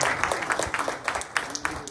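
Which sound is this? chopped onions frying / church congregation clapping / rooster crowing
church congregation clapping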